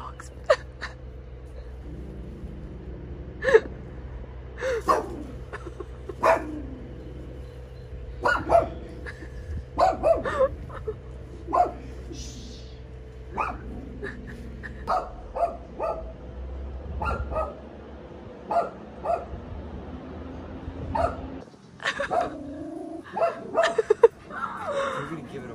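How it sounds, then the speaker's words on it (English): Dogs bark in short, scattered bursts around a home, some sharp yips and whimpers among them, with a person gasping and voices breaking in between the barks. "Oh my god, the dogs."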